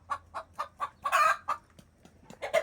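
A brooding hen that has been sitting on sixteen eggs clucks in a steady series of short, close calls, pausing briefly before a louder, rougher squawk near the end, with no talk over it.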